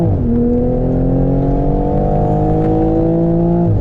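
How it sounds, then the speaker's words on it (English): A 2019 Toyota GR Supra A90 sports car engine holds a loud, steady high-revving drone, its pitch dipping slightly at first then staying level, heard from inside the vehicle. "the engine just revs so beautifully, man"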